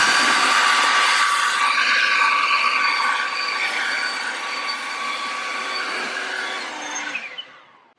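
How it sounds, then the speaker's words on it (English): An EGO 56V cordless electric blower runs steadily at a loud, close whoosh, clearing a pool deck, then winds down as it is switched off near the end. "This thing works like any other blower."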